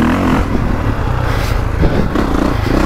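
A 450cc motocross bike, either a Honda CRF450R or a KTM 450SXF, runs loud and close with a steady, throbbing engine drone and slight rises in revs.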